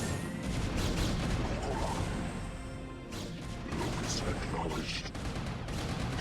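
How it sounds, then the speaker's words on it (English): Protoss photon cannons firing in StarCraft, rapid cracking and crashing shots in repeated bursts over continuous battle noise, with game voices and talk mixed in. "Get fucked up by these cannons."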